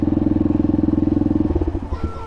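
A small motorcycle idles with a fast, even putter that is close and loud, then the engine note roughens and breaks up as it pulls away.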